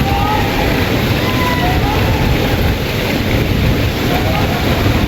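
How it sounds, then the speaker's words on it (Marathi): Steady roar of water falling at Sautada waterfall near the Rameshwar temple, a loud continuous broadband rush filling the whole stretch with no breaks. "आणि हे जे पाणी दिसतंय का खाली पडताना, इथं खाली धबधबा आहे, इथं खाली कुंड आहे पहा."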